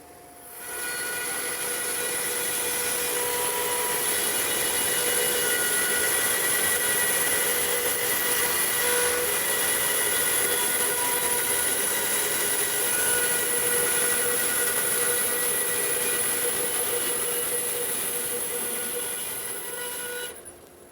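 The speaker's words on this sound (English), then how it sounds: "So I go ahead and rough here at the bandsaw" A bandsaw cuts rough lumber in one long continuous pass, a steady high whine and hum that starts, holds at constant loudness for about twenty seconds, then winds down, with no talking.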